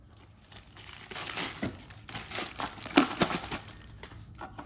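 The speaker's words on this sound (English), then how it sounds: "let's go ahead, rip that plastic open" Plastic wrapping is ripped off a new diesel truck fuel filter from a filter kit, giving close, irregular crinkling and tearing crackles that rise and fall over several seconds.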